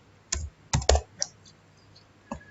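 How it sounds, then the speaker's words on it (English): Numbers being typed into a Windows custom size field on a computer keyboard: about five distinct, fairly close keystrokes, irregularly spaced with short pauses between them, in a quiet room. "type in the initial size and maximum size to"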